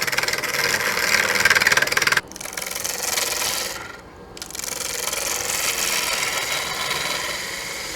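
Wooden lidded box blank spinning on a wood lathe as the tool scrapes it round, a steady close rasping hiss that drops briefly twice, then carries on continuously.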